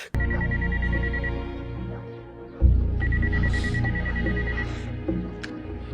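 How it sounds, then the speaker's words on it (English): In a scene from the film Man on Fire, a telephone rings in two trilling bursts over a low, rumbling dramatic background, with a heavy thud between them. "The moment Chrissy picks up the phone, the tension is palpable."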